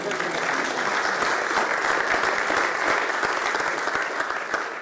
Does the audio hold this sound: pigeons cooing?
no